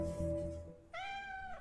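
Cat in the escape-room game Stay letting out a single clear, drawn-out meow that follows a steady hum of background music.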